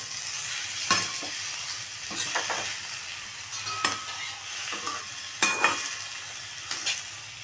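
Mashed potato and pea samosa filling is stirred in a pan, with a steady soft sizzle under scraping spoon strokes that come in irregular bursts; no one speaks.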